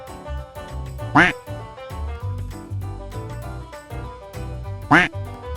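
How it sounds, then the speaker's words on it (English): Duck quacking twice, two loud, distinct quacks spaced a few seconds apart over an upbeat children's farm-animal music track. "duck"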